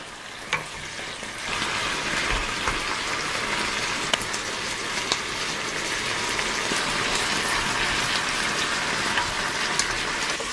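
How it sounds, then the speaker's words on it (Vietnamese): Marinated pork stir-frying in a pot over medium heat, a steady close sizzle and crackle with soft scraping stirs throughout, no talking. "mình tiếp tục xào cho đến khi thịt nó săn lại như thế này"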